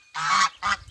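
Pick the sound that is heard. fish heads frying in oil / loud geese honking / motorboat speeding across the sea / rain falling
loud geese honking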